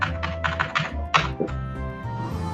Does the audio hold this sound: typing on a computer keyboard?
yes